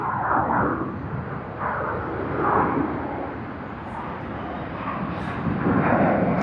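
An Air Niugini Airbus A220 in its 50-year anniversary livery at Sydney Airport produces a steady, moderately distant jet engine roar with a broad rushing texture and no talk.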